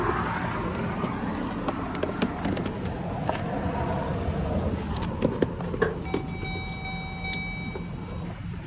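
Interior rumble of a Jeep with a transmission fault driving through town at low speed, with a steady engine and road hum, occasional clicks and a faint tonal chime near the end.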